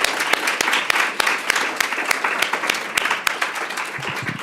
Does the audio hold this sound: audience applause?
yes